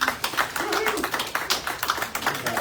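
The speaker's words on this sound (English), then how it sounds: "Everybody give her a big round of applause." A small workshop audience applauds for Beatrice at a heart health master class, a moderate run of separate claps at an uneven rhythm with some talk mixed in.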